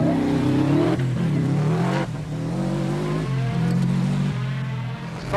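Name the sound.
rally car driving fast on a tarmac stage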